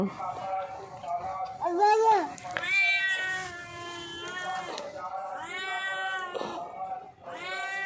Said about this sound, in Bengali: ডাকো মিয়াওকে ডাকো, ডাকো, বলো মিয়াও